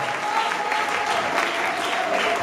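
A funeral congregation claps and cheers together in a continuous, dense wash of applause and voices, loud and close, with no single speaker standing out.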